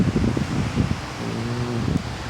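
Wind gusts roar and rustle steadily during a winter storm at a house with a gate, a continuous close buffeting with no one speaking.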